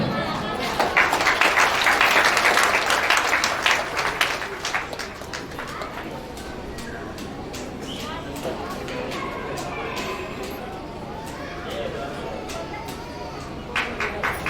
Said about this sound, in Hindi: मैं एक बार जोरदार तालियां।